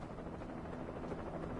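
Helicopter in the video game Alan Wake Remastered, a steady faint whirring rotor drone with a rapid chopping pulse, heard alone over a short stretch.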